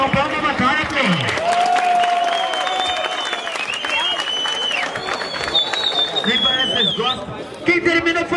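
Crowd at a rap battle claps and cheers in a dense, sustained wash of applause, mixed with loud voices and shouting over it throughout.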